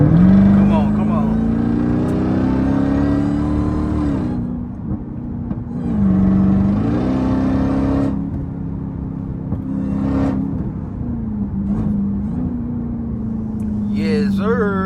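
A 707 hp Jeep Trackhawk's supercharged engine drones and revs in traffic, a loud, steady, rumbling roar that swells and eases over several throttle changes, heard from inside the cabin.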